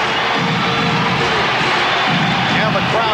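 Basketball arena crowd roaring during the 1992 NBA Finals game between the Chicago Bulls and Portland Trail Blazers, a loud, continuous wall of cheering and noise from the home fans with no break.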